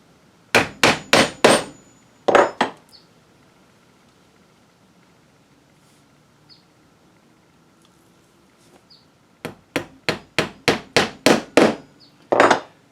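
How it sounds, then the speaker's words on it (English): Hammer tacks a hacksaw blade down onto a piece of plywood: two bursts of sharp, loud wooden blows, a quick run of about five strikes, then a pause and another run of roughly seven near the end. "So I'll go ahead and tack this down."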